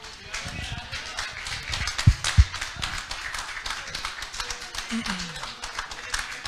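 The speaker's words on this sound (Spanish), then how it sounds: "Un aplauso, por favor, para estas tremendas tuneras." Scattered audience clapping at a municipal council session in Valparaíso, moderate and steady for several seconds, mixed with chatter and a few louder thumps nearby.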